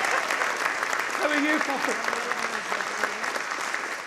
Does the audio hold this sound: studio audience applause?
yes